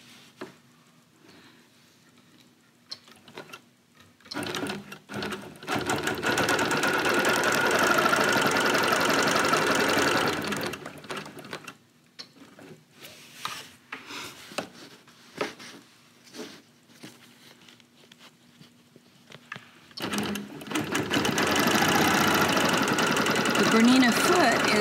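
A Bernina Q24 longarm quilting machine stitching ruler work runs in two sustained bursts of steady mechanical whirring, separated by quieter pauses with faint handling noise.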